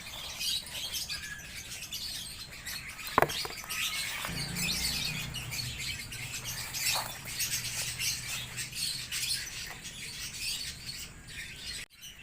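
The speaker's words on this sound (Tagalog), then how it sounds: "Pasensya na po kayo sa mga ingay dito ng mga ibon at saka ng sasakyan" Faint bird chirps scattered through a steady wash of outdoor noise, with a sharp knock partway through and a low rumble of vehicles underneath.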